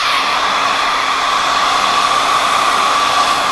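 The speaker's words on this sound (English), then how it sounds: "you're keeping the hair smoother while you're blow drying it" A hair dryer blows steadily and loudly up close, a constant airy whoosh with a faint motor whine and no pauses.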